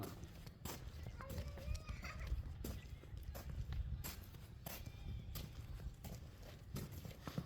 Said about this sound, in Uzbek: Mana toychoqlarni ko'ringlar.